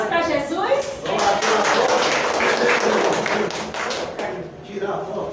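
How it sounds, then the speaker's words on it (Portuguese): Congregation clapping in church, loud and close, with a fast, dense burst of hand claps that swells and then eases, voices mixed in around it. "Palmas para Jesus"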